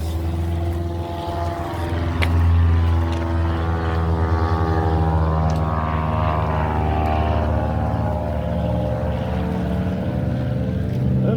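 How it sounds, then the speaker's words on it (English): A propeller plane passes overhead near Urquhart Castle, its loud, steady droning engine filling the whole stretch with sweeping harmonic tones that shift slowly as it moves by, with no talk over it. "And the plane just happens to pass on by."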